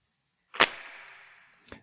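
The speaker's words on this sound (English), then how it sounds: "I put a lot of spring reverb on my samples" One sharp snapping drum sample hit followed by a long, metallic, springy spring-reverb tail that fades out, then a second faint hit near the end.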